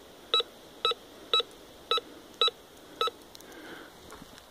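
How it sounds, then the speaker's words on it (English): A handheld metal detector pinpointer beeps six times in a steady, evenly spaced rhythm while probing dirt during a dig, the sharp tones close and clear over quiet background. "Pinpointer work."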